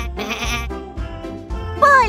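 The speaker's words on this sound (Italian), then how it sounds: "Pecore!" Sheep bleating in a playful farm-animal scene, a loud, wavering cry that repeats in a few pulses and ends in a rising bleat, heard alone.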